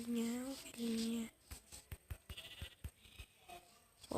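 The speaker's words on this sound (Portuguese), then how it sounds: "Ovelhinha." Two short, loud sheep bleats from the video game Minecraft come first, close and clear, followed by faint tapping and clicking as play continues.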